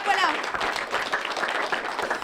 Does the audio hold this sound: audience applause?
yes